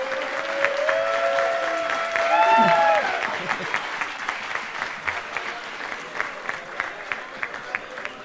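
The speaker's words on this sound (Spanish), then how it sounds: "recibiendo el aplauso que se merecen" A conference audience claps to welcome speakers at a comics tribute event, with cheering voices and a whistle early on, then the applause settles into a steady patter of scattered claps that gradually thins out.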